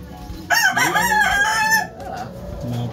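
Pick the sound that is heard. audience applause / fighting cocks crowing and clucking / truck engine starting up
fighting cocks crowing and clucking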